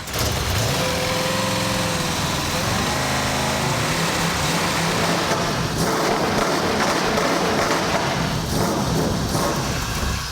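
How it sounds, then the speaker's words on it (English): A 1994 Chevy S10 truggy engine runs loud and close, a steady rough roar and rattle throughout with slight surges in revving. "So it should be enough to go ahead and start the engine."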